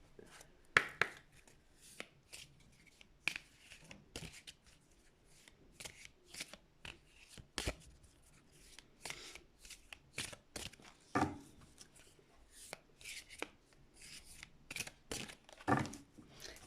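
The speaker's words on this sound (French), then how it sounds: "je vais remettre la carte de la fatalité, je vais remélanger là aussi" A deck of oracle cards being shuffled, with soft, papery riffles and slaps arriving in irregular bursts, close and fairly quiet, with no talking.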